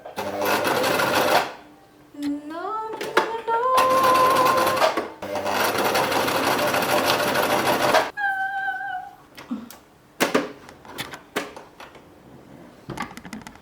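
A sewing machine stitches stiff, non-stretchy fabric in loud mechanical bursts, stopping and starting, with brief clicks and a short spoken word between runs.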